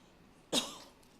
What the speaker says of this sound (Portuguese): Vou tossir agora.